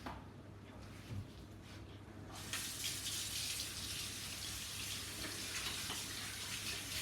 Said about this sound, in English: Once you have washed your hands